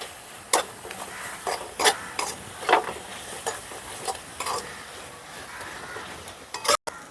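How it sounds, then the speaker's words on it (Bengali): A spice masala of salt, turmeric, chilli, cumin and coriander powder being stir-fried in a pan for egg and cauliflower curry, a low steady sizzle broken by sharp scraping spatula strokes at irregular intervals, close and alone. "মশলাটাকে ভালো করে কষিয়ে নেব"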